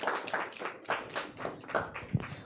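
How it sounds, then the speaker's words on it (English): An audience claps at a legal symposium session honoring a justice, a short burst of hand claps with irregular, uneven rhythm at moderate distance, fading out. "Please, much bigger hand clap for Honorable Justice Patrick Chavarro."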